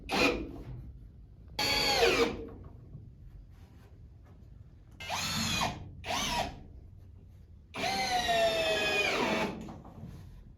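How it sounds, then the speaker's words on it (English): Power drill driving a spade bit through a wooden 4x4 post, with four separate whining bursts between quiet gaps, the pitch sagging as the bit bites into the wood. "you just go ahead and drill your hole all the way through there"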